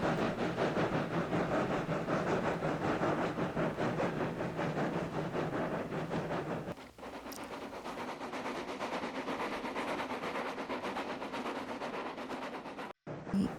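Railway engine pulling a flatbed train along the track, giving a steady rolling rumble with a rhythmic clatter that dips briefly midway and then carries on at an even level.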